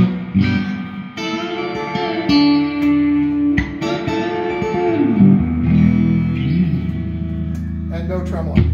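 An electric guitar plays chords and single notes through a Gibson Ranger amplifier with a non-working tremolo, ringing out with a washy reverb tail, loud and close.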